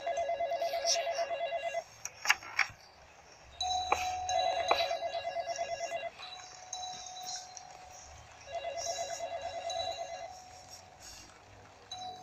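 A telephone ringing in the horror video game The Dark Internet, sounding as three separate bursts of rapid electronic ringing with quieter gaps between them, over a low dark backdrop.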